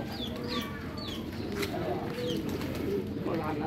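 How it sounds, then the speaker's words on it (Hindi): Pigeons at a breeding setup, a male and female teddy pigeon, coo softly and steadily under a dense murmur of other birds, with faint chirps breaking through the continuous background. "ये कबूतरी और ये कबूतर"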